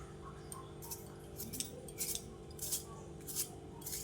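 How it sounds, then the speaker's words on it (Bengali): Knife chopping potatoes on a board in a home kitchen, a series of sharp, evenly spaced cuts about every half second against steady low background hum, fairly close. "এই আলুটা কেটে নিই, একটু আলু দেবো।"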